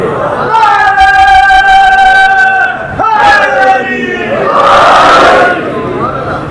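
A large crowd at a Muharram majlis gathering raises loud, sustained chants of a religious slogan in unison, with swelling voices that break and rise again in a second collective shout toward the end.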